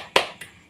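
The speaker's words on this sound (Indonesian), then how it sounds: "Yuk kita tepuk salut bareng-bareng." Children in a class doing a tepuk salut clapping routine, one sharp close clap followed by a softer second clap.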